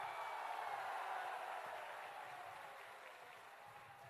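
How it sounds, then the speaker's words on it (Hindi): Steady crowd clapping at a political election rally in Kanthi fills the whole stretch, dense and even, fading slightly toward the end, with no voices standing out above it. "जोर से ताली बजाओ जरा।"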